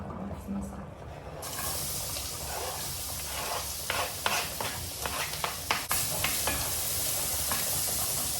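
Meatballs frying in a pan with onion and garlic, a steady loud sizzle that starts abruptly and carries on, broken by sharp pops and scraping stirs in the middle.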